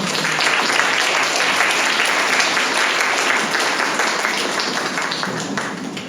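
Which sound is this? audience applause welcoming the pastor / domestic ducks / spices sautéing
audience applause welcoming the pastor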